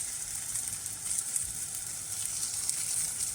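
Spinach and carrot crepe batter spread thin in a hot pan over medium-high heat gives off a soft, steady sizzle, faint and even throughout, with no talking.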